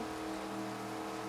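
Rain during a storm in the open-world game Just Cause 2 patters as a faint, even hiss for a moment, with no voices over it.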